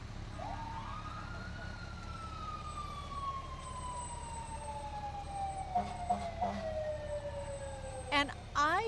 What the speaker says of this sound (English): Fire trucks, sirens, parades.